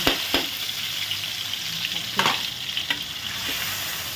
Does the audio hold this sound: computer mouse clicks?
no